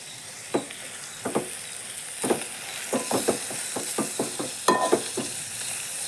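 Beans with rock salt sautéing in oil in a pan, a soft steady sizzle broken by a run of repeated spatula scrapes and stirring clatters, close and alone with no voices.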